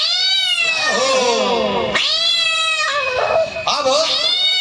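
A voice imitates a cat during a Bhagavat Katha religious storytelling in a village setting, letting out three long, loud, wavering meows in a row, each one rising and falling like a caterwaul.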